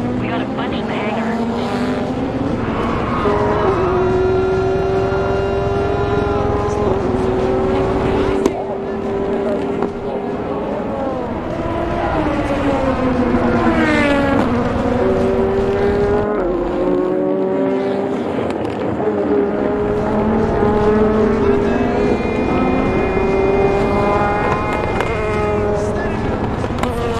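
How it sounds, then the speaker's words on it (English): Loud turbocharged race cars with small engines whine and roar, their pitch climbing and falling repeatedly as they accelerate and shift, continuous and close throughout. "Turbocharged cars with small engines"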